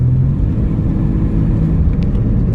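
A Jeep engine with its exhaust entirely missing idles and runs as a loud, steady, close-up rumble with a low throaty drone throughout.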